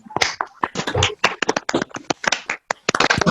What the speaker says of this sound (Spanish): para poder darle un fuerte aplauso al doctor Víctor Ramos